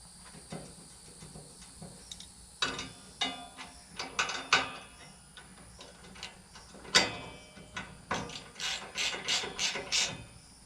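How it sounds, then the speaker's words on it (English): Metal ratcheting clicks from a wrench tightening a bolt while mounting a Buyers LT35 hand tool rack, coming in short bursts of rapid clicks with pauses between, close and fairly crisp, no talking. "let me get my handy adjustable wrench"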